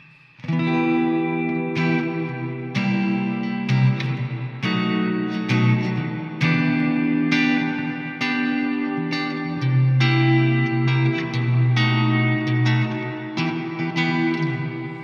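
An electric guitar plays picked chords and single notes through a Strymon pedal on its 70s plate reverb setting, and each note rings out into a shimmering tail. The playing is clear and close, with no talking.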